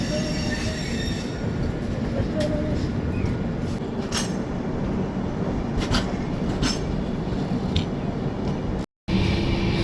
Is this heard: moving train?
yes